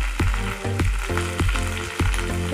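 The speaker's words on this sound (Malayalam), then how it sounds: "കടുകൊക്കെ പൊട്ടിക്കഴിഞ്ഞ് ഞാൻ വറ്റൽ മുളക് ഇടുകയാണ്" Dried red chillies hit hot oil with already-popped mustard seeds over a medium flame for a green peas curry, giving a steady close sizzle under a rhythmic background beat.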